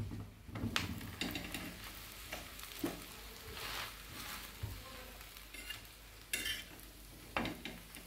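Bread slices toasting in a pan for bread custard pudding, a faint low sizzle with intermittent scraping and clinks of a utensil against the pan, quiet and close, no speech.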